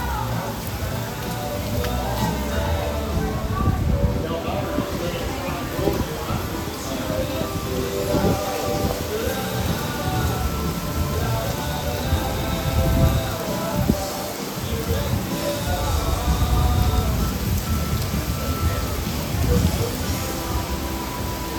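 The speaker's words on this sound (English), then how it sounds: "Wow, this storm is insane, guys." A heavy thunderstorm pours down in a loud, continuous rain roar with dense patter on surfaces, and a voice speaks occasionally over the downpour.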